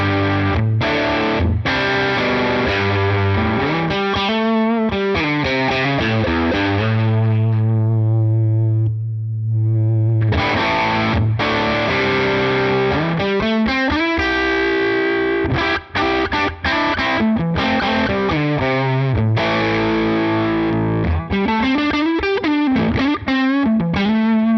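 An electric guitar runs through a Line 6 Helix amp model's drive channel, playing a distorted, sustained riff with chords and single notes, one held note ringing out before busy playing resumes, loud and alone.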